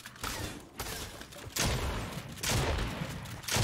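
Bursts of rapid video game gunfire crackle and boom in dense volleys, loud and close, with brief lulls between the heavy barrages.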